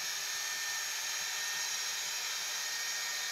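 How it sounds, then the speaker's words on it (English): A belt sander fitted with a reclosable fleece belt, its drive roll at 900 RPM, polishes a round matte stainless steel handrail, giving a steady, continuous high whirring hiss throughout, close and unbroken. "run this on the sander via the drive roll at 900 RPM"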